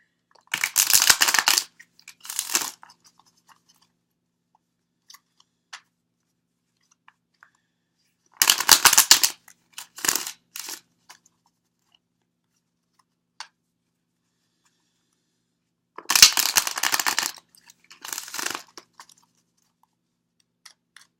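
Tarot cards being shuffled in three separate bursts of crisp riffling and crunching, each a couple of seconds long with light flicks and taps between, close and fairly loud against a quiet room.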